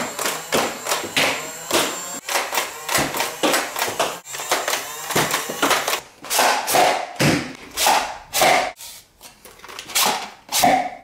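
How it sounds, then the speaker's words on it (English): A Nerf Elite Demolisher blaster fires foam darts and missiles in a quick demo, a close string of sharp thumps and mechanical clacks coming in bursts, spaced more widely toward the end. "Now here is a quick firing demo of the Demolisher."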